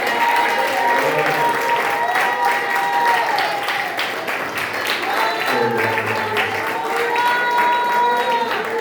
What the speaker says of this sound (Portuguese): Será que Jesus ele é digno de uma salva de palmas?